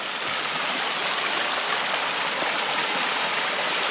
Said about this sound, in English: it is summertime and the water flow is very low